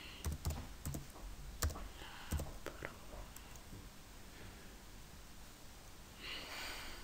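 Typing on a computer keyboard, a few sharp key clicks in the first three seconds, then quieter background noise with soft breathy whispering.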